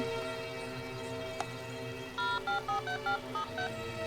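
A phone keypad beeps out a run of short dialing tones, about eight quick evenly spaced beeps following a single click, at moderate level over a faint steady background hum.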